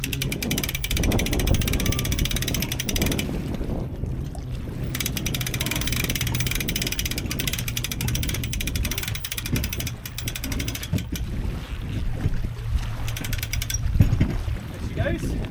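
A boat winch whirs and grinds steadily as it hauls a boat up a slipway onto its trailer at Lake Bala, with water lapping and people talking throughout.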